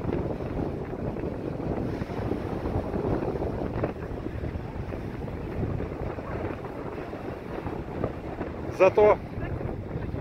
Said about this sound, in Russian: Такой сильный ветер поднялся.